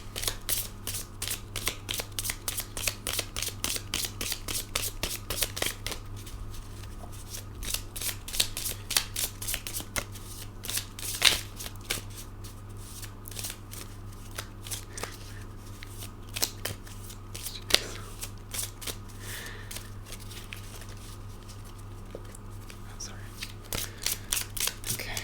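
Tarot cards shuffled and riffled continuously at close range, a dense run of soft crisp flicks and slaps with a steady low hum underneath and occasional sharper snaps as cards spill.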